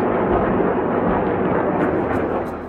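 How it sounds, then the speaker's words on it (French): Missiles intercepted by an Iron Dome air-defence system exploding in the air, a loud continuous roar of blasts and rumbling that stays dense throughout and fades slightly at the end. "On dirait des feux d'artifice, mais c'est des missiles qui explosent."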